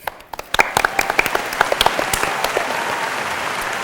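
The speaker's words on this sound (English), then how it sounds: "Let's give them a warm round of applause." An audience applauds guests sharing their COVID-19 experiences. Scattered sharp claps quickly build into dense, steady clapping from a crowd, fairly near and loud, with no voices.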